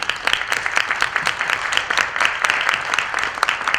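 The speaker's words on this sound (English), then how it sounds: "Can we give them a round of applause?" An audience at an academic symposium applauds its panelists: dense, rapid hand clapping, loud and close, continuing steadily without any speaking.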